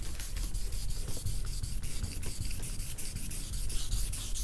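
Wet sanding a car's clear coat by hand with 600 grit sandpaper: a steady, close, rhythmic rasping scrub with repeated strokes and no talking.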